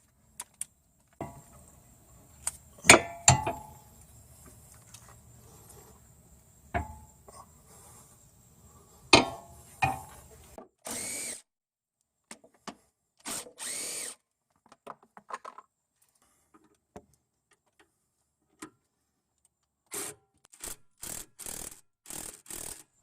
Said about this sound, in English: I was putting pressure on the link to prevent the stud from moving very much while I was spinning off the nut